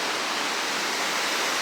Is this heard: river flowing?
yes